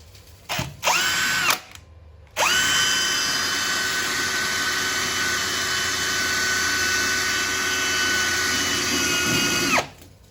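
A couple of short drill bursts, then a long, steady, loud whine of a hammer drill boring into concrete, stopping abruptly near the end.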